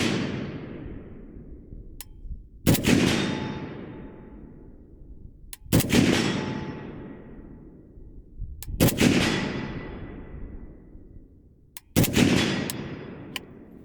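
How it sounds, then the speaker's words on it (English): A Riley Defense AK-103 rifle fires single rounds at steel targets roughly 100 yards away. Each sharp, loud report rolls off into a long echo, and about four main shots are spaced a few seconds apart, with fainter metallic pings between them. "We sent 5 rounds, and we got 5 impacts on still."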